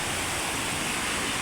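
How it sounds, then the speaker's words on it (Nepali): A small waterfall near Pokhara, Nepal roars in a constant, dense rush of falling water, close and loud with no gaps and no voices. "ठ्याक्कै नजिकैको यो सानो झरना"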